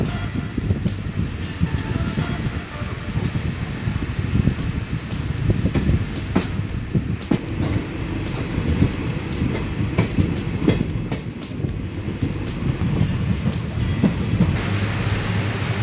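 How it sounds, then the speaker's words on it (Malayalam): A passenger train out of Udupi rolls steadily along the rails, a continuous close rumble with rhythmic clicks of the wheels over rail joints heard from inside a nearly empty compartment, with no talk. "ഉടുപ്പിയിൽ നിന്ന് ട്രെയിൻ എടുത്തു കഴിഞ്ഞ്"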